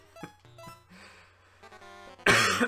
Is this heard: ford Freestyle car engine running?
no